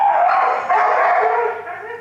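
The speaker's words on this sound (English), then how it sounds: "It's 18-month-old Chihuahua." A male Chihuahua puppy, 18 months old, barks and yips continuously in a high, excited voice at close range for about two seconds, with no clear speech over it.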